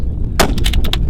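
A single loud rifle gunshot cracks close by at a precision rifle competition, 1400-yard stage, followed by a short burst of echoing reports that fade quickly.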